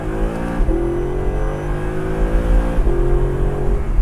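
From inside an exotic car with a manual gearbox worked by steering-wheel paddles, the engine revs climb steadily and then drop sharply at a crisp upshift. The pattern repeats with a second climb and a second shift.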